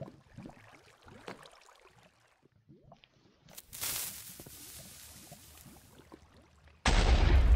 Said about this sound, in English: Why does this TNT take so long to blow up?